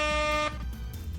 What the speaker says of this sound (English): Thanks for the air horn, Matty.